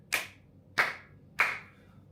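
Three separate sharp claps ring out at even intervals, each with a short decaying tail, close and fairly loud against a quiet background.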